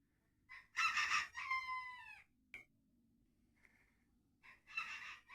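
A rooster crows nearby on a frosty morning in a garden, a loud drawn-out call, followed by a sharp knock, a brief faint cluck, and the start of another crow.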